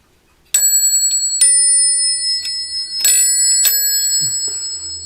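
Bell from an old telephone, American style with a spring-tensioned mechanism, struck in several bright, ringing metallic dings at irregular intervals, each leaving a sustained, shimmering tone, close and loud.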